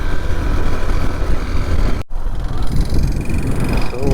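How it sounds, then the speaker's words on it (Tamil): A motorcycle engine running rough and due for an oil change gives a steady, gravelly rumble mixed with wind buffeting, with one brief dropout near the middle. "இன்ஜின் சவுண்டு உங்களுக்கே கேட்கும்னு நினைக்கிறேன், ரொம்ப உருன்னு தொண்டை கட்டின மாதிரி"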